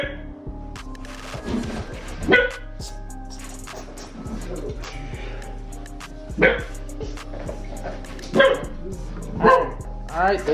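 A female dog barks in a home, several sharp barks at about two-second intervals while people talk over a steady background hum.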